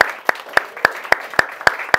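Church congregation at a weekly devotional service clapping in a steady, even rhythm, about eight sharp, close claps at regular intervals.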